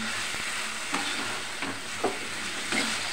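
Ingredients for egg gravy frying in a pan, a soft continuous sizzle with a few spaced scraping stirs close by.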